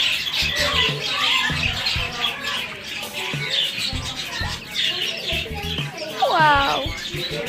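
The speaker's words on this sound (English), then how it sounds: "I want that macaw." A macaw at a bird shop gives a harsh, rising squawk near the end, following scattered chirps and calls from other birds, while children and adults talk excitedly throughout.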